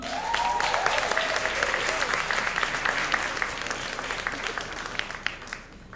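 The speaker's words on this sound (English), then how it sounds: "Please give a round of applause for Arti Virani." A gala crowd of journalists claps for the event organiser, a full, even burst of applause that fills the room and tapers slightly toward the end.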